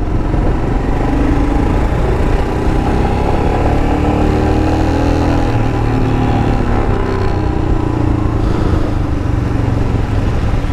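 A 2017 Royal Enfield Himalayan motorcycle engine drones steadily throughout, a continuous low exhaust rumble while riding at night, with no voices.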